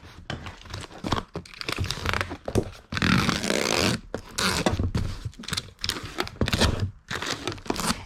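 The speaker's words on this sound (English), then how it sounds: "I'm just gonna drop some peanuts right in that box to keep it from moving around" Packing peanuts dropped into a small cardboard shipping box, with bursts of crinkly, rustling crunches in irregular clusters, close and moderately loud.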